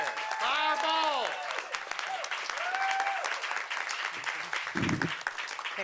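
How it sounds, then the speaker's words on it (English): A crowd applauds Councilmember Ketsy Lozada at a Philadelphia bill signing with the mayor. Loud, sustained clapping and cheering fill the space, with whistles and voices rising over it. "I want you to give a rousing round of applause for Councilmember Ketsy Lozada."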